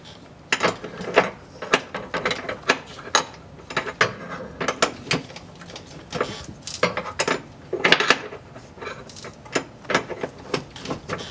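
A wrench undoes the top bolts at the rear of a PT Cruiser with a loud rattling fault, giving a close series of sharp metallic ratcheting clicks and clanks in uneven bursts, with no talking.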